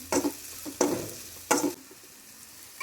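Food with a pinch of turmeric fries in a pan, a soft sizzle punctuated by four brisk stirring scrapes spaced roughly every three-quarters of a second, close by.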